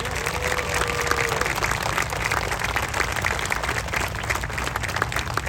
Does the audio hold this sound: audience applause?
yes